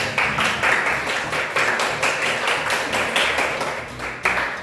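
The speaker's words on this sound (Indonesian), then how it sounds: "Tepuk tangan dulu" A class of schoolchildren clapping their hands in a school classroom, a dense, steady burst of applause-like claps that runs throughout.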